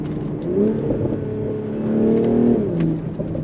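A BMW Z4 with a B58 engine accelerates hard, its smooth rising engine note climbing and sweeping across the gears, loud and close from the cabin with no talking.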